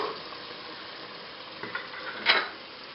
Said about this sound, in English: Now we're just going to stir it just a little bit.